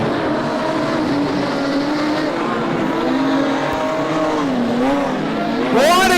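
A modified production race car spins on the dirt oval at Lismore Speedway. Engines whine and wail with shifting revs, and a sharp tire squeal near the end rises over a crowd murmur.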